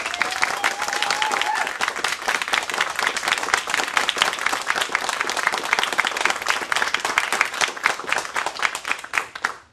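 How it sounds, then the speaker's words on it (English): Sustained applause from a town hall audience voting yes by clapping, dense and steady for nearly ten seconds before tapering off at the end. "Those who believe yes, please applaud."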